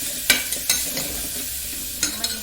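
Garlic and turmeric fry in oil for a chicken dish, a soft low sizzle close by, broken by a few sharp spoon scrapes and stirring clinks.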